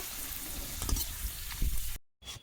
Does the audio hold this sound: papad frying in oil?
yes